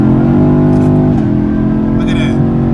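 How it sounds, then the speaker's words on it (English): A car in sport mode accelerates smoothly through its gears, engine note droning loud and close with a pitch drop at a shift, while someone talks over it. "This is with the car in sport mode."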